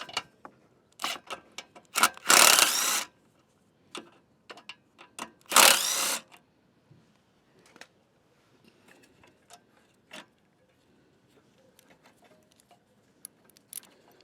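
Bolts come off the carburetor of a Craftsman EZ Walk mower that won't start: scattered close metallic ticks and taps, with two short, loud, dense bursts of ratcheting or spinning tool noise.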